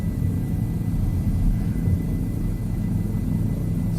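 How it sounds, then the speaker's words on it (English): Helicopter flying in Microsoft Flight Simulator 2020, a steady loud rotor and engine rumble holding constant throughout with no talk over it. "You're in a helicopter."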